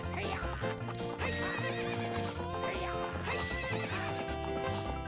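A horse neighs and gallops in Zelda: Ocarina of Time, with a loud whinny and steady clip-clop hoofbeats layered over continuous game music.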